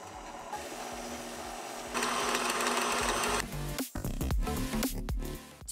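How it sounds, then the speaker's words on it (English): An electric mixer whirs through icing sugar, starting at a lower, steady hum, then jumping to a louder, higher-pitched whine midway before sputtering and bumping near the end; no talking. "Start the mixer slow and then slowly speed it up"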